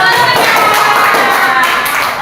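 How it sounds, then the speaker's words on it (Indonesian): A room full of people applauds after a group presentation on a blended orange-ice drink recipe, a loud, dense wash of hand clapping that runs steadily for about two seconds with no talking. "tepuk tangan dong"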